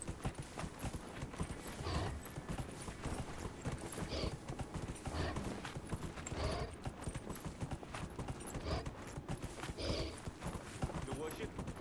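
Horse hooves clip-clop steadily at close range, with an occasional whinny, while a person talks over the sound.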